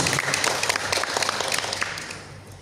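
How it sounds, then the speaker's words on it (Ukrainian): Applause at a children's talent festival, Fieriia Talantiv, after a spoken-word entry, with a crowd of hands clapping briskly that gradually fades toward the end. "Будь ласка, ваші оплески"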